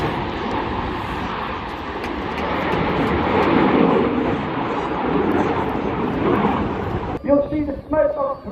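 Red Arrows jet aircraft roaring overhead at the Torbay airshow, a loud, broad continuous rumble swelling and fading over several seconds before a commentator's voice comes in near the end.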